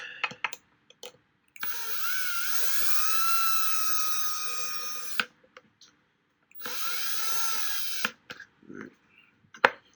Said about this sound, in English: suggest that you only use the drill to just start the bolts.